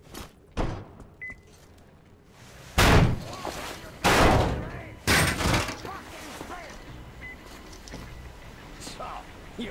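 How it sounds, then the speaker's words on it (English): A heavy door is forced open in the post-apocalyptic shooter Metro Exodus, with several loud, close thuds and slams spread across the scene, among game ambience and faint voices. "The door's giving. Let's give it a shove, Artyom."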